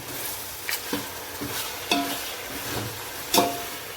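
Chicken pieces for pulao sizzle in a pan while being stirred, with several distinct scraping stir strokes at irregular intervals over a soft continuous frying hiss, close by.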